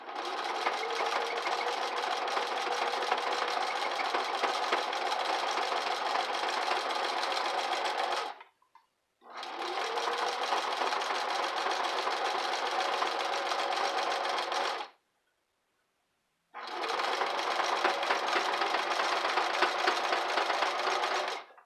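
A sewing machine stitching a fabric basket runs in three long steady bursts of fast mechanical whirring, close and loud, separated by short pauses and with no talking.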